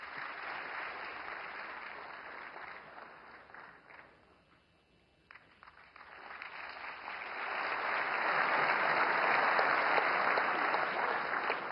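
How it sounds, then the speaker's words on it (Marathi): Loud, dense applause fills an assembly hall for a gesture by Narendra Modi, briefly thinning to a lull before swelling again into sustained clapping from a large crowd. "सभागृहात मात्र टाळ्यांचा कडकडाट होताना पाहायला आणि अनुभवायला मिळाला"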